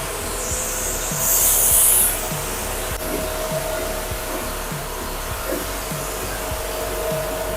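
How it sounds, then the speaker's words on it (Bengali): A pressure washer gun sprays water onto a car engine at a car wash in Kolkata, a steady broadband hiss with a louder surge partway through and a rhythmic mechanical thump from the pump underneath. "আমরা ইঞ্জিন ওয়াশটা করছি, যে প্রেসারটা আছে অনেক দূর থেকে গানটা স্প্রে করছে"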